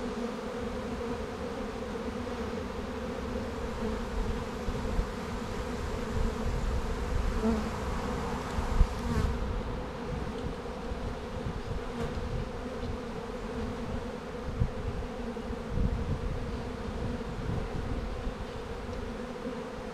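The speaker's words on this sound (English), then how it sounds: "you'll see all the bees just go marching in the front opening there" Dense, continuous buzzing of many honey bees swarming close around a hive, steady throughout with no voices.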